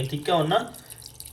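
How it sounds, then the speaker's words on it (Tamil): Water poured from a vessel into a pot of home-cooked chicken gravy, a short splashing pour lasting under a second, with a voice speaking briefly over it. "நம்ம இப்போ தேவையான அளவு தண்ணி ஊற்றிக்கலாம்"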